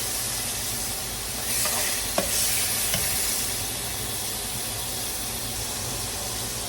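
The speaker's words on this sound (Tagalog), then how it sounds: "Habang nagme-melt ang ating butter" Butter melting and sizzling in a pan for a honey garlic dish, a loud, steady, close hiss that fills the whole stretch, with a couple of faint clinks and no talking.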